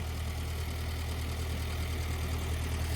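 A small farm tractor's engine idles steadily nearby, a low, even rumble with a faint rhythmic knock and vibration that holds constant throughout, with no one speaking.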